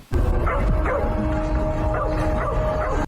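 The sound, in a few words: pet dog barking loudly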